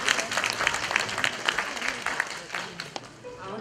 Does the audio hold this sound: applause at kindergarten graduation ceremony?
yes